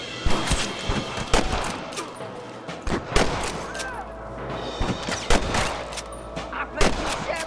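Heavy exchange of gunfire in Red Dead Redemption, repeated sharp rifle and pistol shots ringing out close and loud, with a low rumble underneath and occasional voices between bursts.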